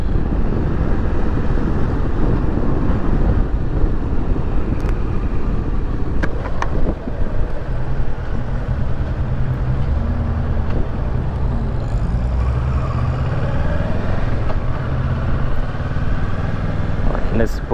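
Continuous roaring engine of a 2018 Kawasaki Versys 650 ABS Tourer with heavy wind buffeting, heard from on the bike, with a rider's voice occasionally under the noise.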